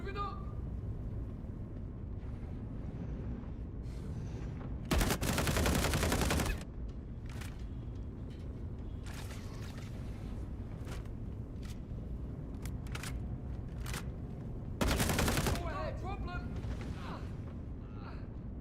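Gunfire in the video game Star Citizen: two loud sustained bursts several seconds apart, with scattered sharp single shots between them over a low background hum, while someone talks throughout.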